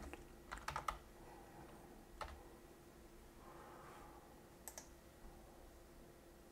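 Typing on a computer keyboard while entering a search for a software library, with quick bursts of close, crisp key clicks separated by pauses over a quiet room hum.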